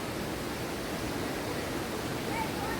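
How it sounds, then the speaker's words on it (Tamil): A small waterfall flows in a steady, even rush of broadband water noise that fills the whole stretch with no pauses. "இங்கே கொஞ்சம் அருவி மாதிரி இருக்குது."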